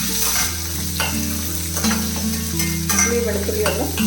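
Small onions and garlic sauté in hot oil in a pan, sizzling loudly and close, with repeated stirring scrapes throughout.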